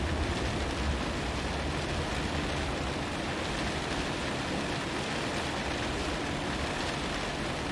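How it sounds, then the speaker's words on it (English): Heavy rain pounds steadily on an aircraft cockpit in the flight simulator X-Plane 11, a dense, continuous hiss and roar with no pauses and no voices. "That rain's really hitting the cockpit hard here."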